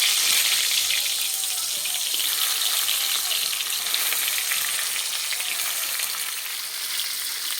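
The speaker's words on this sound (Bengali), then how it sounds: "কড়াইয়ের মধ্যে তেল দিয়ে পটলগুলো ভেজে নেব।" Pointed gourds frying in oil in a wok, a steady, dense sizzle with crackling hiss that holds loud and even throughout, with no voices.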